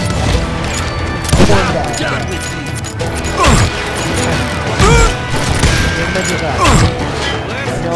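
Repeated bursts of gunfire in a Wild West shootout from the game Call of Juarez, sharp loud shots arriving in clusters every second or so over a dense, busy background of game sound.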